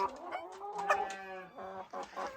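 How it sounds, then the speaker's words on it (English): A rooster on a small farm keeping chickens, cows and sheep gives a close, loud, strained crowing call, followed by shorter clucking bursts. "they don't just crow in the morning, they crow whenever the urge strikes them, which is pretty much every 10 minutes or less"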